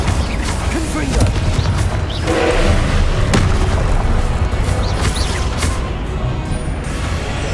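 Repeated Confringo blasting spell explosions in the video game Hogwarts Legacy, dull booming thuds and crashes that come one after another amid a dense wash of combat noise and music.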